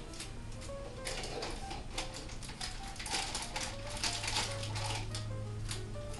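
Tape being pulled and pressed around stacked paper cups and parchment paper for a camera obscura craft, a busy run of close crackling, tearing and rustling sounds that continues through the whole stretch.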